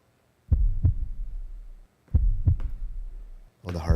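A heartbeat sound effect from a promo plays as two deep, booming lub-dub double thumps with a low lingering tail, then a burst of other sound begins at the end.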